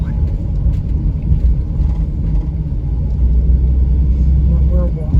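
Car driving along the Natchez Trace Parkway in Mississippi: a steady low interior road rumble and engine hum runs throughout, with people talking over it.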